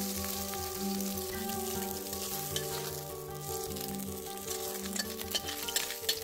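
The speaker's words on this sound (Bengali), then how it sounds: "এখন আবার বাকি মাছটুকু ভেজে নেওয়া হচ্ছে।" Small fish fry in oil with a soft, constant sizzle and occasional pops, partly masked by background music.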